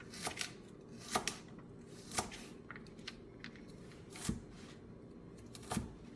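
A knife dicing small baby carrots on a cutting board, with about half a dozen crisp chopping knocks at irregular intervals, close by and moderately loud over a quiet background.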